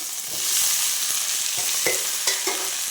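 Sliced ivy gourd frying in oil in a pan, a steady bright sizzle with a few scraping stirs of a spoon breaking through, close and alone without voices.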